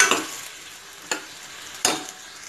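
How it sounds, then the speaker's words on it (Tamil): Onions sauté in a pan for a Mahalaya Amavasya meal, giving a soft steady sizzle broken by three sharp stirring scrapes of a spatula. "நல்லா வதங்கட்டும்"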